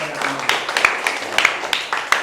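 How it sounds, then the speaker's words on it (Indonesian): Students applauding in a classroom, a short burst of scattered, uneven clapping from several children at close range, with a voice under it. "Bagus, berikan tepuk tangan."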